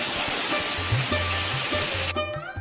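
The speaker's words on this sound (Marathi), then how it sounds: "थेंब थेंब पडतात ना त्याच्यावरती, तर ताशा वाजल्यासारखा आवाज येतो" Raindrops drip onto a metal roof sheet during the first monsoon rain in the Konkan, making a steady, close, dense patter that runs the whole time, with low thumps and a brighter ringing tone near the end and no voices.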